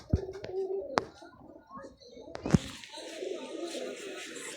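Pigeons coo softly in a few low, throaty bursts, with sharp clicks or taps and some faint background murmur.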